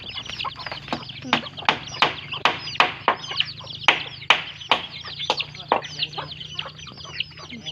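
Chickens cluck close by, a busy flock making repeated sharp clucks and squawks in a loose, uneven rhythm over a low background hum.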